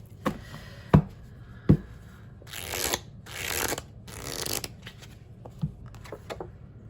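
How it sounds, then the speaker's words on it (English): Close, soft riffling bursts of tarot cards being shuffled, three or four brisk flurries between sharp taps and clicks, with no talking. "I still like to just do a little shuffle here on camera"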